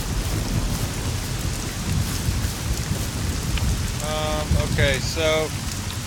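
Rain and thunder in the video game SCUM: steady heavy rain hiss with low rumbling throughout, while a voice speaks briefly near the end.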